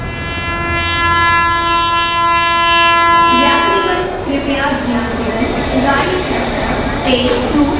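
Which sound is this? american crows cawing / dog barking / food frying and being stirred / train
train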